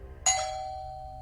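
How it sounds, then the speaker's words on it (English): A single doorbell chime rings out once, bright and clear, and its tone lingers and fades slowly in a quiet room. "the next thing that occurred wasn't the sound of my doorbell being pushed"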